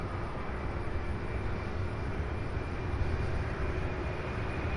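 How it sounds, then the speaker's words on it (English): An Airbus A300 airliner gives off a broad, steady engine roar at an airport, constant and moderately loud throughout with no talk. "Next up, an Airbus A300."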